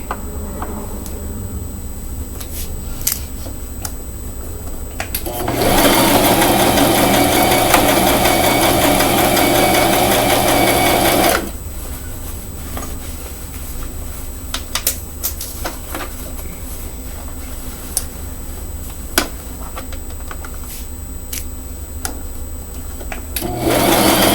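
A sewing machine stitching a pink frock runs in one loud, steady whirring burst of about six seconds, surrounded by quiet room tone with small clicks and handling noises before and after.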